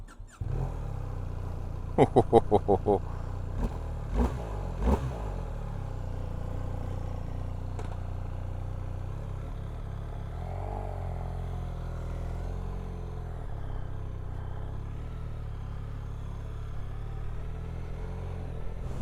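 A BMW R 1300 R motorcycle engine runs steadily at moderate volume, with a few sharp clicks and knocks early on, while someone talks over it.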